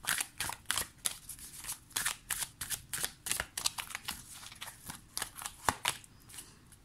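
Tarot cards are shuffled and drawn by hand in a quick, uneven run of crisp flicks and slaps, close and fairly loud, with no voice over them.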